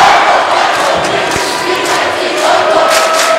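A high school ice hockey crowd fills Mennen Arena during the Mennen Cup championship between Morris Knolls and Kinnelon, a loud, steady roar of many voices with scattered shouts, a dull thud and brief whistle-like tones.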